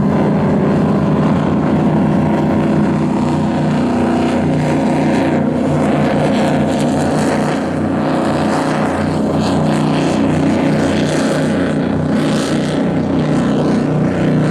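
A powerful racing powerboat engine roars continuously and loudly as the boat comes up on the plane during the Cowes Torquay race, a dense throbbing drone that holds steady throughout with no talking.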